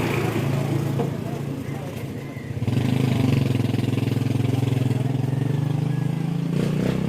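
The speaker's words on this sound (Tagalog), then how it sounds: "hiram kaming motor" A borrowed motorcycle's engine catches partway through and settles into a steady, close running rumble, while people talk over it.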